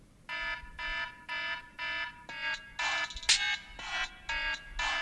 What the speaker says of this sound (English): Alarm, the ringtone remix?